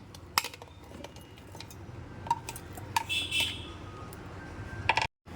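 Frozen mango pieces drop into a mixing bowl with a few sharp clinks and knocks, scattered and fairly close, over a low room hum, with a brief silent gap near the end.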